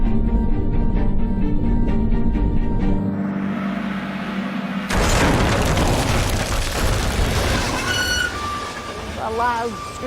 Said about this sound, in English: a huge crash and almost like an explosion